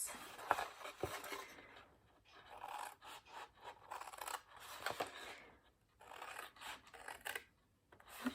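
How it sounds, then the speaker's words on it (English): Scissors snipping through paper along score lines while making gift boxes, a series of close, dry cuts and rasping rubs in short irregular bursts separated by brief pauses. "I'm going to cut up all my score lines. On both sides."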